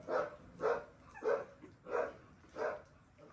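American Bully puppies give five evenly spaced, fairly faint barks at a steady rhythm, close by with no talk over them.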